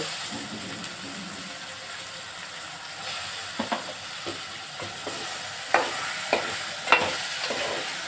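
Eggplant pieces stirred into a frying curry in a pan, a steady sizzle with a series of scraping, clacking spoon strokes that grow more frequent and louder toward the end.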